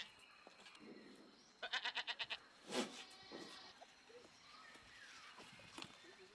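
Goats on a farm where trees replace fodder, bleating in a quick run of sharp pulsed calls followed by one longer bleat, with a few quieter animal sounds in the background.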